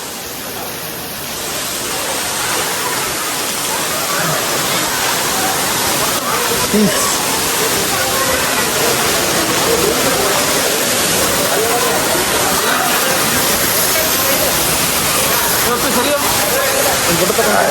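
Baba Waterfalls pours down in a dense, steady roar of falling water that fills the whole stretch at a constant loud level, with voices faintly mixed into the rush.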